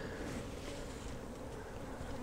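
Honey bees at a queenless hive being given a VSH Italian queen, a continuous dense buzzing hum, close and steady, with soft wind noise.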